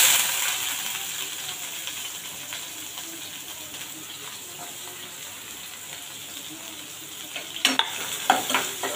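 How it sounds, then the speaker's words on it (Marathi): Finely chopped onion is added to hot oil with mustard seeds and cumin and sizzles with a steady frying hiss, joined near the end by sharp scraping and stirring clatter from a spoon in the pan. "आता यामध्ये मी बारीक चिरलेला कांदा घालत आहे।"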